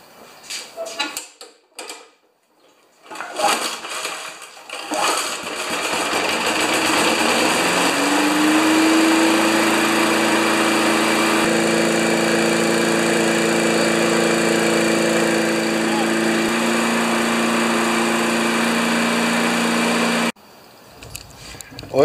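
An old 1992 Wedgefield Briggs & Stratton classic mower engine is cranked after a few sputtering tries, then catches and runs steadily at a high, even drone for about twelve seconds before cutting off abruptly.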